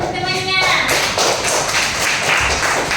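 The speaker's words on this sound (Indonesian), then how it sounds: "Tepuk tangan dulu untuk teman-temannya." Brief burst of clapping from schoolchildren in a fifth-grade classroom, applauding classmates, close and lively with some children's voices mixed in.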